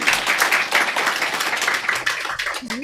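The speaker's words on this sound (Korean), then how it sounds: "우리 박수 한번 해" A church congregation claps at a Sunday service, a brisk, loud patter of many hands that thins toward the end as a voice begins.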